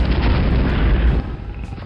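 A mortar in Deathtrap Dungeon fires and explodes with a loud, heavy rumbling boom that holds for over a second, then eases into a lower tail.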